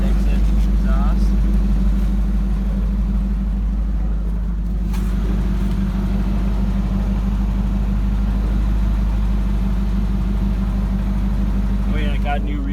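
A 2002 Ford Mustang GT with a manual gearbox, a 4.6L V8 and side exit exhaust idles with a steady, loud, low rumble that stays even throughout.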